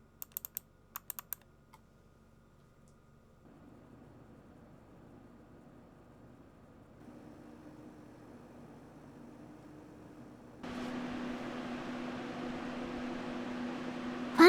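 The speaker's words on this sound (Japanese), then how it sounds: "最大負荷になると CPU のラジエーターファンの音が大きいね" A white AMD gaming PC in a Corsair 2800X case under full load, its CPU radiator fans rising in stages to a loud steady whooshing roar after a few quiet keyboard taps at the start.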